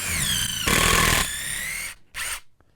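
A Milwaukee Shockwave drill bit bores into soft 6x6 treated lumber with a loud, close motor whine that rises in pitch, roughens as the bit bites, then stops, followed by a short final burst.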